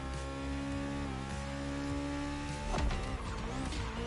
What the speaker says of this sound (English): It kind of sounds like a V8.